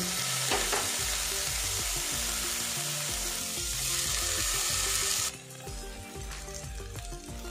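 Eggs and eggplant pieces fry in hot oil with a loud, dense, continuous sizzle and crackle and occasional stirring, and the hiss drops noticeably near the end.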